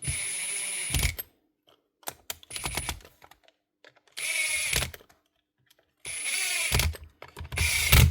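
A repaired Makita BHP452 cordless hammer drill fitted with a new motor, running in several bursts of about a second each, with ratcheting clicks and short pauses between runs; no talking.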